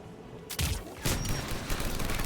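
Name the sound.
anti-aircraft gunfire in Mass Effect 3 video game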